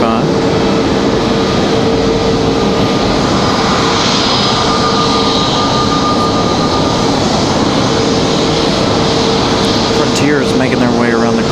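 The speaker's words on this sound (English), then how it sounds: "Jazz 838, Air Canada coming in from Toronto." An Air Canada Jazz Embraer E175 jet arrives at Raleigh-Durham airport, a steady, loud engine whine and roar filling the scene throughout, with a faint tonal hum and a voice speaking over it.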